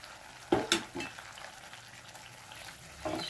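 Pieces of elephant foot yam and potato hit hot spiced oil in a frying pan, giving a few sharp sizzling bursts and stirring scrapes over a soft background hiss.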